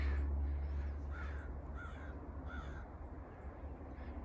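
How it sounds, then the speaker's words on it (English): A crow caws a few times in the distance, harsh repeated calls spaced about a second apart over steady outdoor background noise. "Crow up there,"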